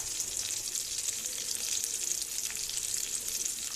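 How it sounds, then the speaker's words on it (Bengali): Dried fish frying with onions in a pan, a steady close hiss and crackle of sizzling oil throughout, fairly quiet with no talk. "শুটকি পেঁয়াজের সাথে একটু শুটকিটা ভেজে ফেলবো"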